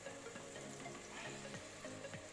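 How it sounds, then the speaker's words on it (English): Pepper for Nigerian gizzdodo fries in hot oil with a soft continuous sizzle, quiet and close, punctuated by a few light scrapes and stirs in the pan. "Let's fry this first."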